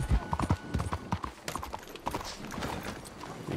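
Horse hooves clip-clop on the ground in Red Dead Redemption 2, a quick irregular trot of thuds, fairly faint and close, heard alone without talk.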